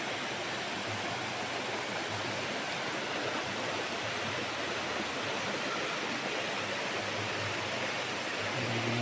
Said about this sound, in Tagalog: Ang agos ng tubig pag ganun mga kapraps